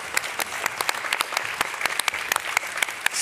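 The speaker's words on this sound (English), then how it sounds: "So can we welcome them on with a big round of applause," An audience applauds designers coming onto the stage at a design event. Scattered, distinct claps ring out close and fairly loud in an uneven rhythm, with no voices.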